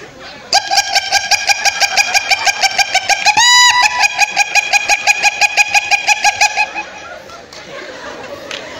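A comedian's voice imitates a panicked hen whose chick has been snatched, with rapid rhythmic clucks and a sharp squawk midway, loud and close, followed by faint laughter from the audience.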